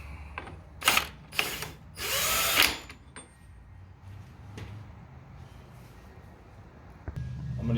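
Impact wrench or drill running a nut down onto a front axle stud of a 2004 Jeep Grand Cherokee Selec-trac, in three short close bursts, the last one longest, followed by quiet shop background and faint clinks.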